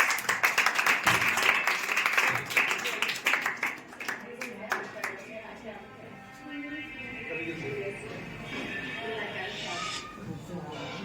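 A school crowd gives loud applause for the school's founder at a farewell and inauguration function, dense clapping for about four seconds that fades out as a voice starts talking.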